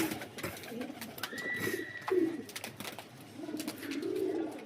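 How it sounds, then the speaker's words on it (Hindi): Pigeons in a pigeon loft coo in low, throaty bursts, with a few overlapping calls and wing flutters nearby against a soft outdoor background. "और बाकी सारे कबूतर यहाँ पे घूम रहे हैं"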